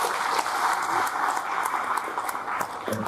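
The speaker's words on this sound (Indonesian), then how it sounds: "beri aplaus buat Ketua Panitia kita" A crowd at a labour rally claps for the committee chairman, a dense, steady applause that holds loud and even throughout without any speech over it.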